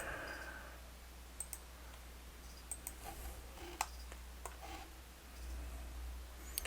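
Soft, sparse mouse clicks while placing joints on a grid in 3D rigging software, faint isolated ticks over a quiet hum with no talk.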